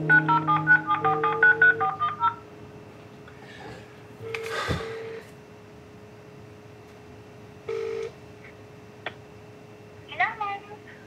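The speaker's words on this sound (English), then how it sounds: "now has to make a heartbreaking phone call" Telephone keypad tones from a quick run of dialed digits on a phone before a call, followed by quieter clicks and short beeps.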